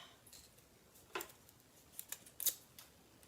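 Scissors snip the edge off a paper card in a few quick, crisp cuts, close and quiet, spaced over a few seconds with faint paper handling between them.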